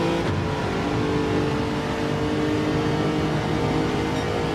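An older Nissan GT-R engine revs hard in the racing game Gran Turismo 7, a loud, continuous roar held at high revs with a whirring edge and no talk over it.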